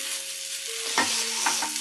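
Wet ingredients being stirred in a Chinese wok on an induction wok station, with a continuous sizzle broken by a few distinct scraping strokes of a utensil, close up and with no voices.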